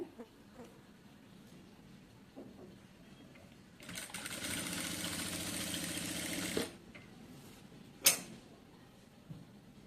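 A sewing machine stitching a kameez front neck design runs in one steady whirring burst of about three seconds, close and moderately loud, framed by quiet handling creaks and a sharp click afterward.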